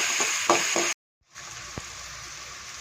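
A pickle mixture for a carrot, bitter gourd and mango pickle sautés in a pan, a steady close sizzle with stirring scrapes that cuts out briefly midway and then resumes more quietly.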